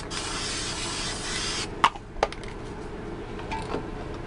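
A spray paint can hissing out fluorescent orange paint in a long continuous burst, then a few short sharp spurts and a faint final puff, close up, with no voices.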